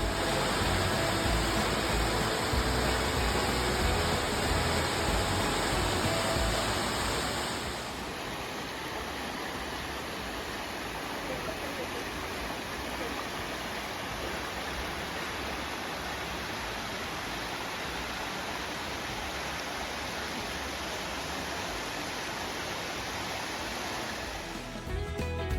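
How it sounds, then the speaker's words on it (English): Steady roar of Cedar Falls, a large waterfall in Hocking Hills, Ohio, heard as broad unbroken rushing water. It is louder at first, then settles to a constant softer wash that continues without a break. "Cedar Falls is said to be one of the biggest waterfalls in this region of Ohio."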